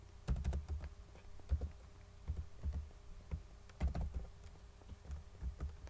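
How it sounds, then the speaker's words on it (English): Someone types on a computer keyboard into Minecraft game chat, a close, uneven run of sharp key clicks and thumps with short pauses between bursts, with no talk. "I'm not good at typing."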